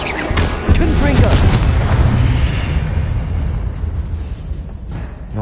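A Confringo fire spell blasts in Hogwarts Legacy, a loud, sustained booming explosion with crackling bursts that rolls on for several seconds, briefly jumping in level near the start.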